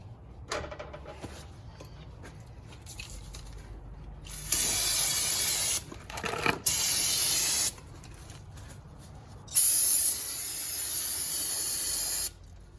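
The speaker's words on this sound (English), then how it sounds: "this is brake cleaner. All we're doing is taking the what's left of the old grease off the spindle." Brake cleaner sprays in a few loud, close, sustained hissing bursts of one to three seconds onto a boat trailer spindle to strip away old grease, with quieter gaps between them and no speech.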